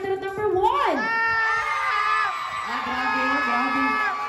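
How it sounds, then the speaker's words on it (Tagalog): A wedding crowd whoops and cheers for a candidate in a party game, loud bright shouts and a high sustained yell rising over a lively room, with voices mixed in throughout. "Palakpakan at hiyawan para kay candidate number 1."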